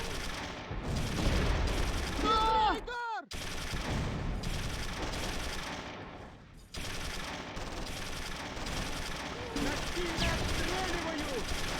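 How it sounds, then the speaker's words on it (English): Gunfire in the wartime strategy game Close Combat III: The Russian Front: loud bursts of machine-gun fire and single shots, with whistling shells and booms, sometimes under excited player talk. "Oh look, they're firing."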